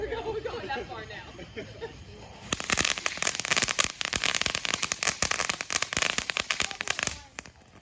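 A tank-shaped firework burning on the ground outdoors, a dense run of rapid crackling pops and bursts lasting several seconds, with people chatting nearby before it starts.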